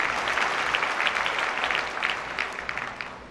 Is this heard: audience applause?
yes